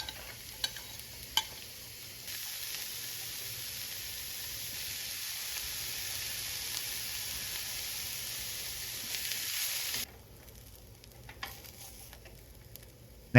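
Carrots fry in a pan as part of making Vietnamese fresh spring rolls: a steady, close sizzle with stirring runs for about ten seconds, then drops to a quieter crackle.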